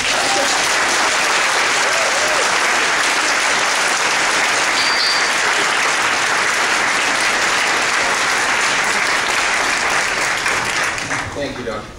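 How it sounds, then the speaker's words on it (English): Graduates at a commencement ceremony give a loud, sustained round of applause, a dense wash of clapping from a large crowd that holds steady for about twelve seconds before tapering off, with some crowd voices underneath. "I think you should all give yourselves a big round of applause."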